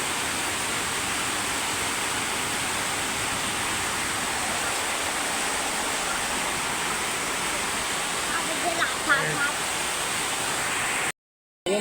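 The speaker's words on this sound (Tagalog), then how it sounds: "Ayun oh guys, bumabaha na guys." Floodwater flows with a steady, broad rushing roar that stays constant for the whole stretch, with a few faint clatters near the end.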